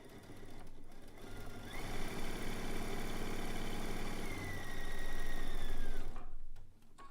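A sewing machine runs a zig zag quilt seam in a steady, continuous whir, its motor hum rising slightly in pitch partway through before stopping near the end.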